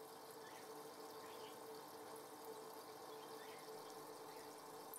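Tetra Filter Jet internal aquarium filter running, a quiet, steady bubbling water hiss heard up close to the tank, continuous and even with no other sounds.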